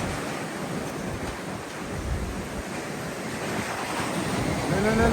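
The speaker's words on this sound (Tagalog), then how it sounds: "yung hangin ng sa bubong" Strong, roaring typhoon wind buffeting a roof in a continuous heavy rush, building slightly louder toward the end, with no clear speech.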